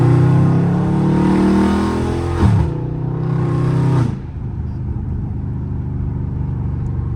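Dodge Charger Scat Pack engine roaring loud through its exhaust while driving in street traffic, a sustained heavy drone that swells into a rev around two seconds and drops off to a lower rumble at about four seconds.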